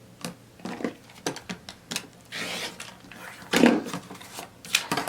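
Home sewing machine stitching pieced quilt block fabric along a seam line for a beginner summer quilt block, heard as short uneven bursts of whirring and clattering with brief pauses between runs, close and moderately loud.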